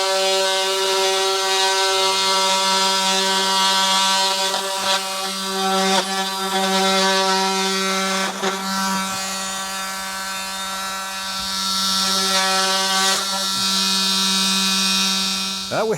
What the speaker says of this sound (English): I'm just going to take my reciprocating tool and get that cut as close as I can